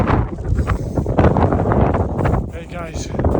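Strong gusty wind buffets the microphone in loud, continuous rushes on a cold, wet, icy winter hike on the Isle of Arran, with a muffled voice faintly underneath.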